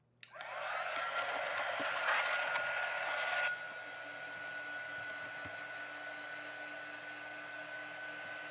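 A hair dryer blowing to dry a craft piece for an autumn tiered tray, a loud steady whoosh for about three seconds, then dropping to a lower setting that keeps running quietly.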